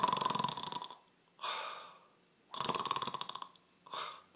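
A vocal coach imitates snoring with his voice, producing two long rattling snore-like inhales, each followed by a shorter breathy exhale, loud and close with no other talk.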